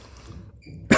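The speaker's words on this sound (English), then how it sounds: "I'm already coughing." A single sharp cough bursts out at the very end, loud and close, after a stretch of quiet game background sound.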